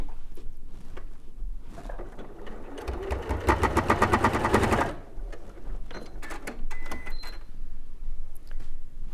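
A sewing machine stitches rapidly in one fast burst while basting the wing of a Kaffe Fassett Sol quilt, a close mechanical chatter with soft handling rustles and clicks before and after.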